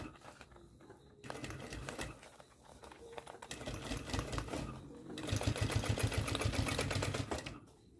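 A sewing machine runs slowly through a thick layered fabric pencil case with a strap caught between the materials, stitching in short rhythmic bursts that grow steadier and louder toward the end before stopping, close to the microphone.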